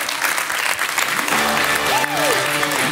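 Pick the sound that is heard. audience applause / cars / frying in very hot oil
audience applause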